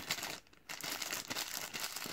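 A Nintendo Switch OLED Joy-Con is pulled from a plastic bag, producing close, continuous crinkling and rustling of the plastic for about two seconds, with a brief lull early on.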